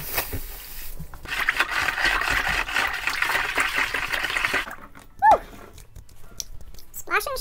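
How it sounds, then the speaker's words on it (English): Sugar water stirred and splashed in a large bucket while mixing a 5–6 gallon batch of peach tea wine, a steady sloshing wash for several seconds that stops abruptly, followed by a few quieter splashes and a brief voice. "Splashing sugar water everywhere on myself."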